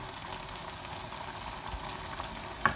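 Potatoes frying in spiced oil for an aloo biryani, a low steady sizzle and crackle running evenly throughout at a soft level, with one brief sharper pop near the end.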